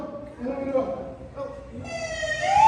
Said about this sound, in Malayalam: അത് ആംബുലൻസ് അല്ല മാഷേ. അത് പോലീസല്ലേ അത്?